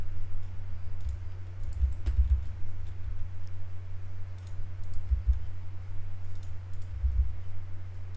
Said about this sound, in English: you're pressing R on your keyboard to rotate the bone